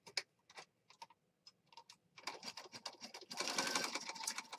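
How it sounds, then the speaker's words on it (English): A sewing machine stitches around the edge of a handmade junk journal, starting with scattered single ticks and short bursts, then building into a steady, louder rapid mechanical whirr nearby. "We're just going to stitch around this outside edge."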